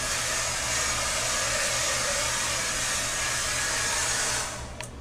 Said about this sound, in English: don't vacuum the hair to death with the hair dryer. Just knock some of the waves out.